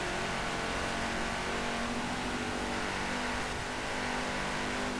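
A Volvo racing in Forza Horizon 4, its engine roaring hard and continuously at high revs, loud and close throughout, with no voices over it.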